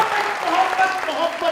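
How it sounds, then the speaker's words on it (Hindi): A studio audience on a comedy talk show bursts into brief, dense applause for the guest Saba Qamar, a short steady clatter of many hands clapping at once. "सबा जी के लिए तालियां।"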